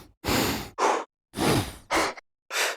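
Five short solo breath samples from the Berserkr tribal drum virtual instrument, each a clean, breathy exhale or sigh separated by silent gaps, close and isolated.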